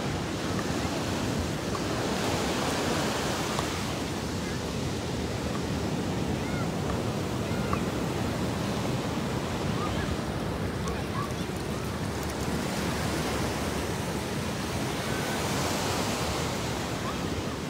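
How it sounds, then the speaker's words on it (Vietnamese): Big ocean waves break on a California beach, a continuous heavy roar of surf with slow swells in loudness and some wind buffeting the microphone, loud and steady throughout with no talk. "Này sóng lớn quá."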